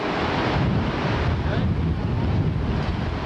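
Pacific Ocean waves and wind rush steadily past the microphone, a continuous broadband roar of surf and gusting air with heavy wind buffeting, no distinct breaks between swells.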